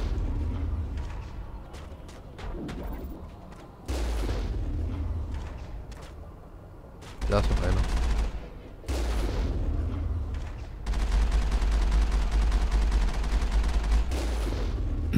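Bursts of gunfire and booming shots from the Mass Effect video game arrive in repeated volleys separated by quieter gaps, with someone speaking briefly over the combat.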